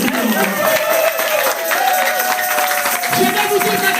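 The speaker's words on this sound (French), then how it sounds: "Acclamons." Church congregation in a French service applauding and cheering together, a dense steady wash of clapping with crowd voices, sustained and loud throughout while a sung or spoken tone runs beneath.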